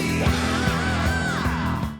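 Vocal wails on a punk-era record rise over dense, driving rock guitar and drums, the sustained high singing sliding in pitch and held loud through the whole passage.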